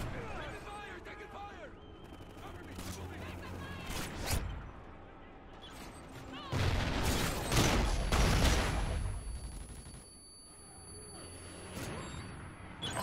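Gunfire in a first-person military shooter game during a Kill Confirmed match, bursts of rapid shots and sharp cracks with a heavy volley near the middle, mixed with game voice callouts.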